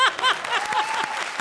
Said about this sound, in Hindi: एक बार जोरदार तालियां तापसी और देवयानंदु के लिए